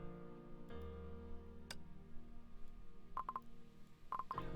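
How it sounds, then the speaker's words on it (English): A phone notification chime sounds twice, short clustered electronic tones near 3.2 and 4.2 seconds, over a steady hum of background game music during a Genshin Impact and Honkai stream. "Who has that notification?"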